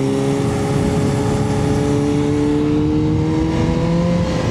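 Kawasaki Z H2 motorcycle engine on a twisty mountain loop road, a loud steady drone whose pitch sweeps through downshifts and climbs again under light throttle, close and continuous with wind rush.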